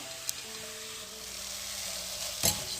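Barley vermicelli roasts in a pan with a soft, steady sizzle that holds throughout, broken by a couple of sharp utensil clinks, one near the start and one toward the end.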